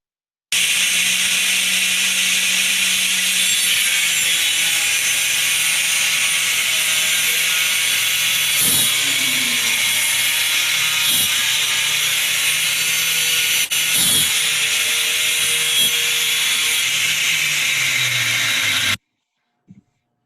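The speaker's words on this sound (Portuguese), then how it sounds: "tinha prego, deliberadamente foi feito o corte, sem dar nenhum solavanco no equipamento" A Makita circular saw with a tungsten carbide blade cuts through wood containing a nail, a loud, steady, high-pitched whine held for about eighteen seconds with a few brief harder ticks, then stops abruptly.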